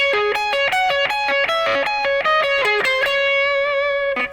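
A heavily distorted electric guitar plays a fast, choppy game-music riff, the notes hammering out in quick stepwise bursts before settling into a sustained final chord, loud and saturated throughout.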